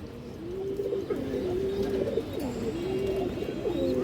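Racing pigeons coo close by, a soft repeated warbling murmur of several birds overlapping steadily throughout, with no voices.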